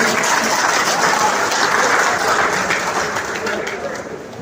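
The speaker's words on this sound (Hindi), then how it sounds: "जोरदार तालियों से सबका स्वागत है।" Dense, sustained applause from a crowd at a BJP party workers' gathering in Maheshwari Bhawan, Ratangarh, loud and steady before slowly fading toward the end.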